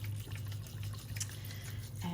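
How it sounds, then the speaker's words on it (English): Distilled water poured into a lavender still, a steady, close liquid pour running continuously for a couple of seconds with a low hum underneath and no talk. "So we're gonna again add distilled water as we always do,"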